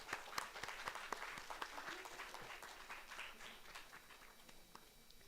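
Conference audience at an academic event applauding, dense many-handed clapping that starts loud and tapers slightly over several seconds, heard at a moderate distance with no speech over it.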